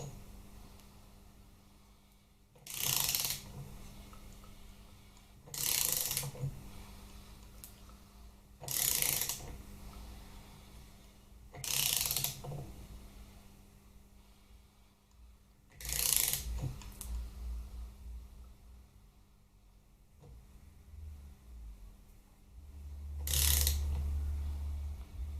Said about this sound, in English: So I'm just going to turn this motor over a couple of times.